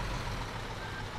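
A dump truck reverses with warning beeps to unload earth at a stadium site in Bau Simulator 2015. The beeps sound faint and thin over a quiet, steady engine rumble.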